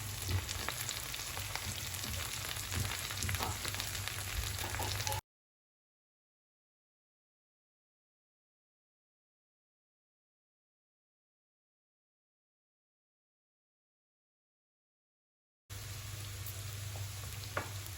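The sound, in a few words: masala spices added to frying okra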